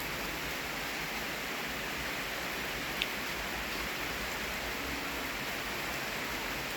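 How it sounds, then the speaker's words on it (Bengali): Light drizzle falling at a jungle resort, a soft, steady, even hiss of rain with one brief faint tick partway through and no voices. "বৃষ্টি পড়ছে ঝিরিঝিরি।"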